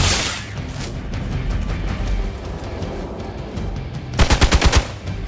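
Rapid bursts of gunfire from the Marvel's Midnight Suns video game, a steady rattle of shots through the middle and a distinct run of five or six loud, evenly spaced shots near the end.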